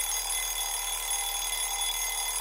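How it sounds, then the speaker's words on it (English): An online OSCE timer's alarm rings out steadily with a continuous, sustained electronic tone and no one talking over it. "Timer and alarm. You can see how they sound like."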